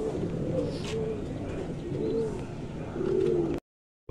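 Pigeons coo in a loft, soft rolling throaty calls repeating every second or so, close and steady over a busy background murmur.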